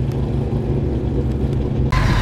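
Holden Commodore GTS in black and yellow, a loud V8 muscle car pulling out of a street car show, with a deep steady rumbling exhaust that swells brighter near the end.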